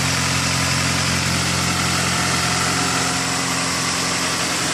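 A 2000 Honda CR-V engine idles after a misfire repair and spark plug change, a steady smooth hum with constant low vibration and no voices.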